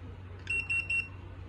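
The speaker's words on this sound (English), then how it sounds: "when we press the push button, they have a buzzer on the controller ready" Hikvision DS-K1T804AEF access control terminal buzzer sounding after its push button is pressed: three short, evenly spaced high beeps in quick succession over a steady low hum, no talk.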